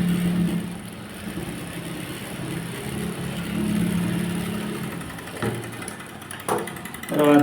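A sewing machine stitches a blouse, a steady whirring motor hum in bursts close by, with small clicks and handling noises toward the end.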